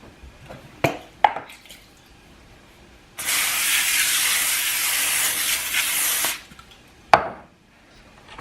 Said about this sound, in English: Get some cooking spray